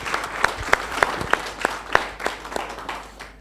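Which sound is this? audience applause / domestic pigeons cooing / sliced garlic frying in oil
audience applause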